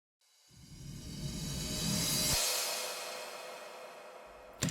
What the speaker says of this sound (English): So we get this big sweep up into the chorus.